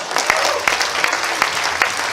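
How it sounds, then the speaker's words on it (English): An audience at an economics conference humor session gives a round of applause, a loud, dense and continuous roar of clapping close by. "So let's give him a round of applause"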